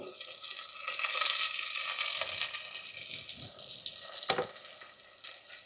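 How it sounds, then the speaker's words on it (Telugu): Tomatoes are stirred into onions frying with curry leaves in a pan, giving a close hissing sizzle with a few sharper scrapes of the spoon and no talking. "ఇందులో టమాటాలు వేసుకొని ఒకసారి మొత్తం తిప్పుకోవాలండి"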